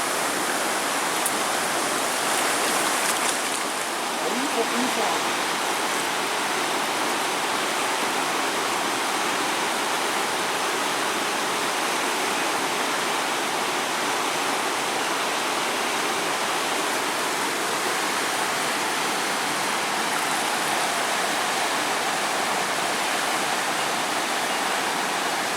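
A trout river in spate, swollen and raging in flood, roars as one steady, loud wash of rushing water across the whole stretch, with no voices over it.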